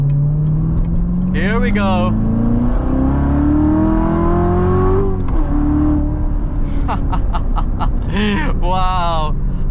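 A Chevrolet Corvette C7 Z06 with 650 horsepower revs and accelerates, its engine note climbing steadily through the gears from inside the car, loud and sustained, with a brief interjection from the driver.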